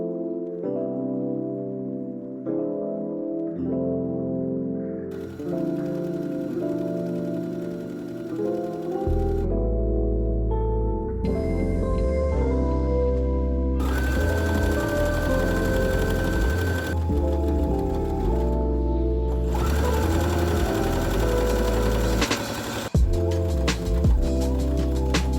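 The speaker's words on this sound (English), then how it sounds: "Then I'm gonna sew and serge the side seams." A sewing machine sews and serges the side seams of corduroy ruffles for a vintage-style dress, starting with short stitching bursts, then running at a steady loud whir with changing pitch, and no talking.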